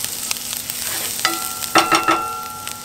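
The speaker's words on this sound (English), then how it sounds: "Let's cook this garlic for a minute and 2." Chopped garlic, three cloves, frying with onion in a pan: a close, steady sizzle and hiss that runs throughout, with a few brief stirring scrapes and clinks partway through.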